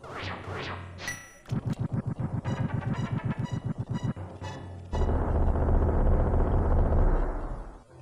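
The Bombos medallion spell cast in the video game A Link to the Past. Descending chime-like tones give way to a fast rhythmic pulsing series of booms, then a dense roaring rumble that sounds like a fiery eruption.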